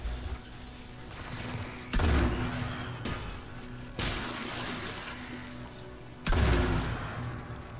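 Gunfire from the video game Mass Effect 3, with loud bursts of shots and explosive booms that come in several heavy waves over a rumbling game soundscape.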